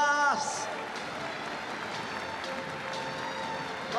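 Stadium crowd at a farewell tribute match applauds steadily beneath an announcer's amplified voice, a continuous wash of distant clapping.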